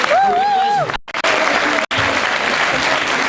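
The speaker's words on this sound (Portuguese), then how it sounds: "Um aplauso para os Némanos, por favor." Audience applause at a gala for a kizomba dance act, beginning under a briefly sung or whistled tone and then continuing as dense clapping, cut by two short drops.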